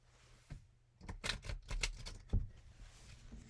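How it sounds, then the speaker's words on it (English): Playing cards are shuffled close to the microphone, a soft ruffle followed by a quick burst of riffled flicks and a final tap as the deck settles, quiet and without speech. "And then I shuffle them"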